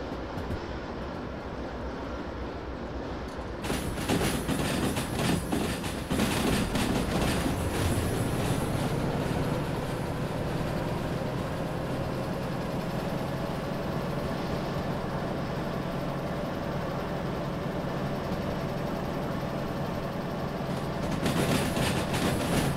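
A locomotive in the Derail Valley train simulator rumbles steadily along the rails with a continuous clatter and hum, growing fuller after a quieter opening and holding on without any talk.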